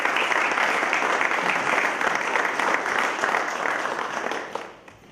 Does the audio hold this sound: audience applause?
yes